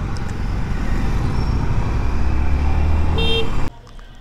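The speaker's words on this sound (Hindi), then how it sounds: "यहाँ पे भी पूरा जाम लगा के रखा है, यहाँ पे भी ट्रैफिक जाम।" Dense roadway traffic in a jammed street, a steady low rumble of idling and creeping vehicles with a brief horn toot near the end before the noise drops suddenly.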